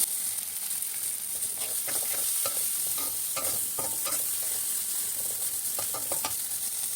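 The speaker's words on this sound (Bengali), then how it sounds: "পেঁয়াজগুলো তাড়াতাড়ি ভাজা হওয়ার জন্য লবণ দিয়ে দিচ্ছি।" Onions sizzle steadily in hot oil with salt and torn bay leaves, a base for a light chicken curry with potato and tomato; occasional scraping stirs of a spatula cut through the constant close frying hiss.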